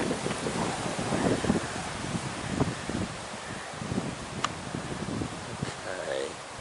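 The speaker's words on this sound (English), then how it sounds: "The wind is really strong" Strong wind buffets a Sony HD camcorder's microphone by a river, a continuous loud rumbling roar with gusty surges, heard alone without talking.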